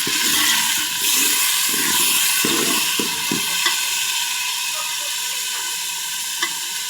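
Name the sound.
onions frying in a pan after a splash of water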